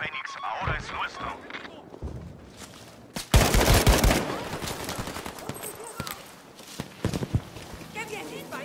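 Turner SMLE rifle shots in the video game Battlefield V, sharp cracks and a loud burst of battlefield fire mixed with scattered gunfire and in-game voices shouting.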